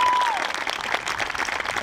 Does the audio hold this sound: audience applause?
yes